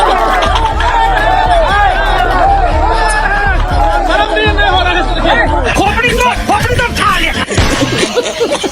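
An angry crowd in Darbhanga, Bihar, chases away BJP legislator Ram Chandra Prasad, a loud, close mass of overlapping shouting voices and chanting with scuffling and running footsteps throughout.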